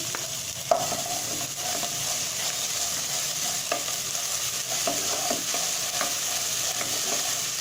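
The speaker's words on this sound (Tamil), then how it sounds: "வெங்காயம் நல்லா வதங்கணும். இஞ்சி பூண்டு பேஸ்ட் போட்டுக்கலாம்." Sliced onions with ginger garlic paste sauté in hot oil, a steady bright sizzle running throughout with occasional light stirring clicks and scrapes, close and fairly loud, no voices.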